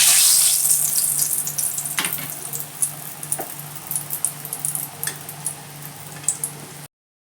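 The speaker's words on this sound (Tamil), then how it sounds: "எண்ணெய் சூடு ஏறிடுச்சு. இப்போது முறுக்கு சேர்த்துக்கலாம்." Wheat flour murukku fry in hot oil with a steady, busy sizzle and crackle, scattered pops throughout, up close and continuous until it cuts off abruptly.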